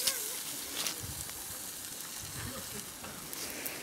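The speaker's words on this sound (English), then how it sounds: "Baking sausages" Sausages sizzling over heat outdoors in Lithuania, a faint, even crackling fry close by with soft pops and breathy hiss, a few quiet background sounds and no clear talk.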